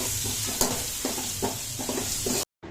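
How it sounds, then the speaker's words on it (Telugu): Grated raw mango sizzles in hot oil with asafoetida, a steady dense frying hiss broken by repeated scraping stirs of a spoon in the pan, close and fairly loud, cut off briefly near the end. "తరువాత మామిడి తురుమును కూడా వేసుకొని ఒక రెండు నిమిషాలు వేయించుకోవాలి"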